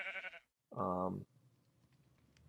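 Two short bleats from a sheep in Minecraft 1.16, one higher and one lower, separated by a brief pause, followed by faint quiet background.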